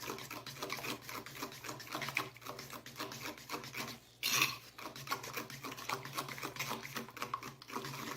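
A fork stirs pumpkin pulp into batter for a pumpkin bread, making quick, soft scraping and tapping against the bowl in an uneven rhythm, with one brief louder clatter midway.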